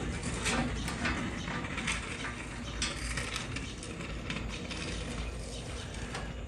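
Bolts being fitted while installing fenderwell exit headers for a Chevy 406 in a 1965 Nova, with steady metallic ratcheting and clanking from a wrench, close and continuous throughout.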